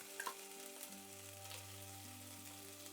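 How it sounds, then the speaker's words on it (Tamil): A ground paste sautés in a pan for green pea rice, a quiet steady sizzle with a few light stirring taps near the start and a faint tonal hum running beneath, with no one talking. "இதையும் போட்டு கொஞ்சம் பச்சை வாசனை போகிற வரைக்கும் வதக்கி விட்டுக்கோங்க"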